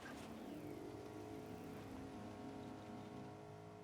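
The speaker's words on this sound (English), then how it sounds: "now I hear this car coming" A car engine drones nearby in the video game Fortnite, its pitch sliding as it approaches, over a faint hiss like rain.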